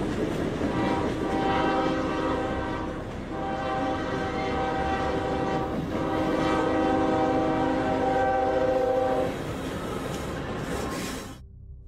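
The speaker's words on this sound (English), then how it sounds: "in the midst of the train's blaring horn" Capital Limited passenger train rolling past a platform with its horn blaring loudly and steadily, a sustained chord over rumbling wheels for most of the stretch before cutting off abruptly near the end.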